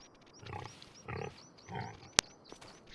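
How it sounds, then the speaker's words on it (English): Pigs in the farming video game Farming Simulator 25 give three soft, low grunting bursts at a steady pace, with a sharp click and faint chirps in a quiet background. "You see the pigs over here."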